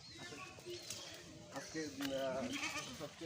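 Male goats of imported breeds bleating in a pen, a couple of short wavering bleats over steady background chatter, fairly faint.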